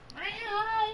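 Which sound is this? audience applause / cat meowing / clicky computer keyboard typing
cat meowing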